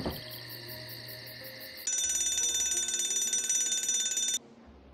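In the video game Nancy Drew: Shadow at Water's Edge, an electronic alarm rings with a loud, steady, bright trilling tone for about two and a half seconds, then cuts off sharply, following a quieter chiming tone beforehand.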